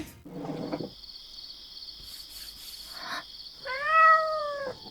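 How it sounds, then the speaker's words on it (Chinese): A small kitten gives one clear, rising-then-falling meow near the end, after a few soft rustles, with a steady high insect-like whine running throughout in a quiet shop during heavy rain. "小猫，你从哪儿来的？"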